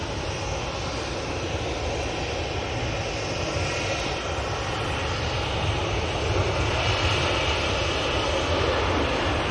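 Ryanair airliner jet engines roaring steadily at Manchester Airport, a loud, continuous broadband rumble that swells slightly toward the end, with no voices over it.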